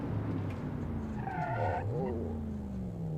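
Tires squeal and skid under hard braking of a 1980s American premium car in the BeamNG driving game, a wavering whine over a droning engine that dips and recovers, with no speech.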